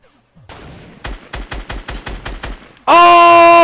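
Rapid gunshots ring out in the Fortnite video game, a quick volley of about nine evenly paced loud cracks followed by a sudden sustained burst of intense, tonal automatic fire, close and dominant with no talk.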